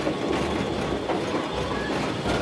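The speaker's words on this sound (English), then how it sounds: "I'm driving the train now." A train runs along a countryside railway line in the Cotswolds, Gloucestershire, its steady close clickety-clack of wheels and rumbling carriage noise continuous and loud, with no talk over it.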